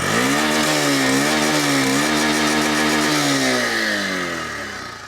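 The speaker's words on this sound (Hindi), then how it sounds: "ये इस मोटरसाइकिल का आइडल कंडीशन है" A Honda Shine 100 motorcycle engine runs close and loud with a steady buzzing idle note that wavers slightly in pitch and slowly fades toward the end, with no voices.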